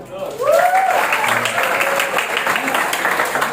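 Audience applause during a motivational psychology talk for teenagers in East Jakarta, a steady crowd clapping that swells in after a brief spoken exclamation and continues for about three seconds.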